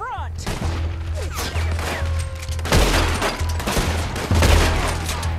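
Rapid gunfire erupts in Red Dead Redemption 2, a dense fusillade of overlapping shots and booming reports, loud and close, with a low steady rumble underneath and no talking.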